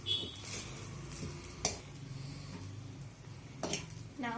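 Veg fried rice being stirred with gravy in a pan, a spoon scraping and clinking against the metal over a soft, steady sizzle, with a couple of sharper knocks.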